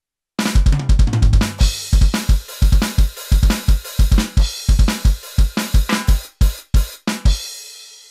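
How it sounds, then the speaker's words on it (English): Electronic drum kit 3 on a Roland TD1 module played in a driving groove, punchy kick and snare hits with cymbal wash, loud and close for several seconds before stopping abruptly. "so I used kit 3 on the TD1 module"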